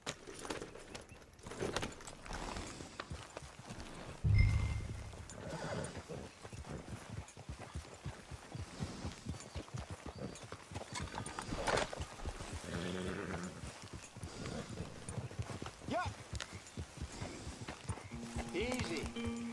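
A horse trots in Red Dead Redemption 2, its hooves clip-clopping in a quick, steady rhythm with tack jangling, under character voices and background game sounds.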